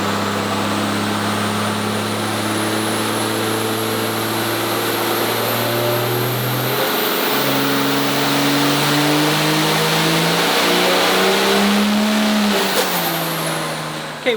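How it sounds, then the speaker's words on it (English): Turbocharged 5.9 Cummins diesel engine on a dyno, roaring loud and close in one sustained pull as its pitch climbs steadily, with a high turbo whine rising above the engine. "So I loaded some big boy stuff in it for 4 and 5, and we will see if it makes power or blows apart."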